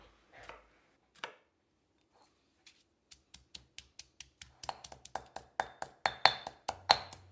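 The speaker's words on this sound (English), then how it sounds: "Slice the green beans as well. Slice the chili." A knife slices green beans and chili on a chopping board, with a few scattered taps that build into a steady, quickening run of crisp close chops.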